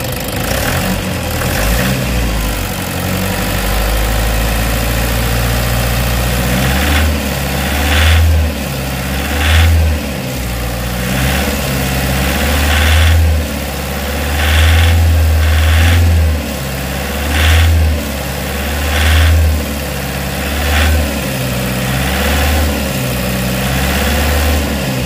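A Toyota Hiace Commuter engine idles steadily with a valve train knocking fault, its low rumble close and continuous, rising in a few brief rev surges partway through.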